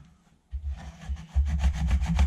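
A chisel is drawn across a GSharp Sharp Edge sharpener in repeated abrasive swipes, each a close, gritty rasping stroke that grows louder and more rhythmic as it goes.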